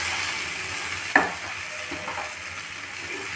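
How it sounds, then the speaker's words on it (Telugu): Okra sizzles steadily as it fries in a pan over medium flame, a continuous close hiss with a brief stir or scrape near the middle. "బెండకాయలు వేగినాయండి"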